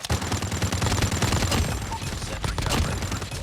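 Dense bursts of automatic gunfire in Call of Duty, rapid overlapping shots forming a continuous barrage of loud cracks with game sound effects mixed in.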